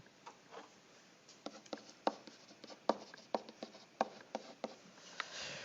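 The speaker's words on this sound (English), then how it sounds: "Let's go write that down, way down there in our analysis piece" Pen or pencil writing down notes while working a pre-calculus problem, a steady soft scratching with a string of sharper taps and strokes, close and clear with no talking.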